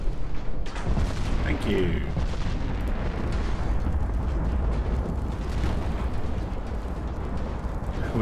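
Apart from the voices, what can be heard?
battleship main guns firing in video game Ultimate Admiral Dreadnoughts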